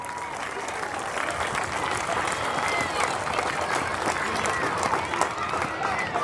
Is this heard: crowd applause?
yes